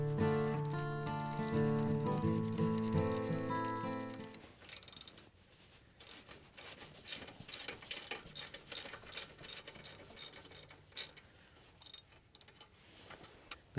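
A hand ratchet backs bolts out of the rear guard of a Kubota M6060 tractor, a rapid run of close, crisp clicking strokes in short bursts, following a louder steady mechanical hum that cuts off.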